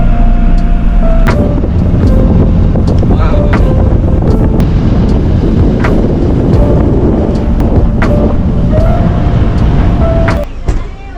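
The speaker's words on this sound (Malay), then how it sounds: "Rasa angin." Wind sweeps across the hilltop of Bukit Holbung above Lake Toba, buffeting the microphone with loud, steady roaring gusts, and voices can be heard faintly underneath.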